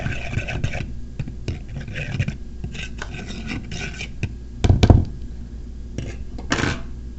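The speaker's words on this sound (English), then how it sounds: "Whisk well before we add the other two ingredients" Ingredients, including a quarter cup of liquid, are whisked in a bowl: quick scraping and rasping strokes against the sides, uneven in rhythm, with a couple of louder clinks near the end.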